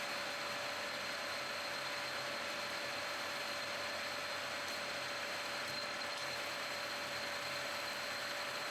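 A lathe boring bar fitted with a CCM T060204 insert cuts away metal stock. It gives a faint, continuous mechanical hum with a thin steady whine that stays unchanged from start to finish.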